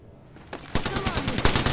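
Video game gunfire in a squad shooter with shields: rapid bursts of automatic fire start after a short quiet lead-in, then continue loud and close as overlapping shots.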